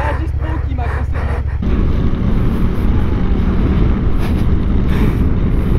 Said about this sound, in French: je fais des rupteurs pour chauffer ma moto